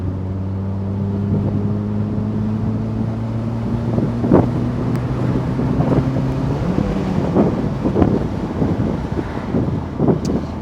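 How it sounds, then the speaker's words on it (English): A car engine run at full throttle during an air/fuel ratio check, a steady droning note that gives way to a heavy rushing roar mixed with wind buffeting. "so I'm just gonna give full throttle now"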